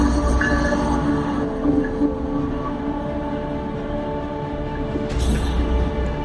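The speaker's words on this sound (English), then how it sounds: "There's a train." A train rumbles steadily past nearby along the Appalachian Trail, a continuous heavy rolling drone with rattling wheels throughout and a brief high squeal near the end.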